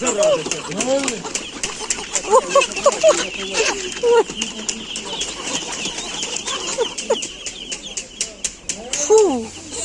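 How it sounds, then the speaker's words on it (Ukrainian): Chickens cluck and squawk in a busy flurry, with bursts of wing flapping as they take flight after a dog runs up, and people talking in the background at a bird market in Cherkasy. "кури повзлітали"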